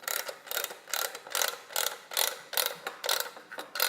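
A ratchet clicks in quick bursts as it tensions a cable through the top nut of a universal cable bracing system, about nine crisp mechanical strokes close by.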